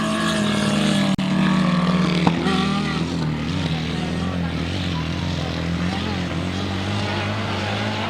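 A big V-twin motorcycle and a Yamaha four-cylinder race on a grasstrack, their engines droning loudly and continuously with shifting pitch, while a commentator talks over the roar.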